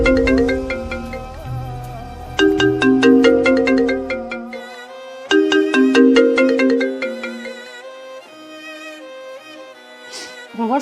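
A mobile phone ringtone plays a loud, close melodic chime pattern in repeated bursts, pausing briefly between phrases, with no talking.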